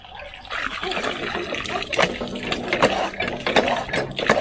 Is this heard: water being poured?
yes